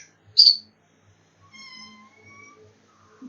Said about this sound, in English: It's trouble having the kitten in the room.